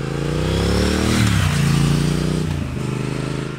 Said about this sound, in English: the sound of it and the exhaust note when you're going along